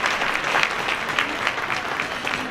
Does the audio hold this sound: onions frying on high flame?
no